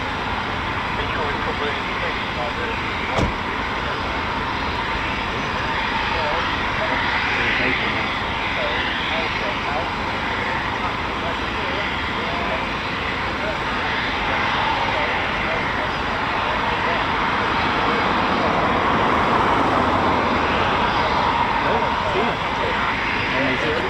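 A Eurofighter Typhoon FGR4 fighter jet roars continuously overhead near RAF Coningsby's quick reaction alert station, a loud sustained rumble with people chatting beneath it throughout.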